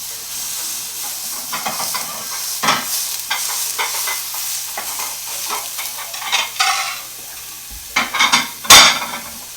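Burger taco meat hits a hot pan meat side down, a sharp hissing sizzle with scraping and pressing sounds, bursts of spatter and a loud clatter of the pan near the end.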